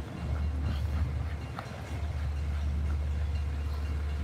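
A double-decker commuter train with its locomotive at the rear rolls past at East Williston Park, a steady low rumble with faint rail clatter, heard from nearby with no talking.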